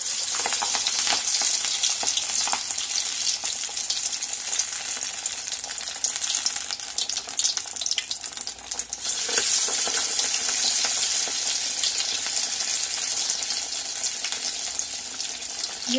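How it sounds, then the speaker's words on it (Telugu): Corn fritters (vadalu) sizzle steadily in hot oil, with a dense, continuous crackling hiss close up and some faint stirring or water noises, and no talking. "ఆయిల్ హీట్ అయింది, ఇప్పుడు మనం ఒక్కటి వేసుకుందాం."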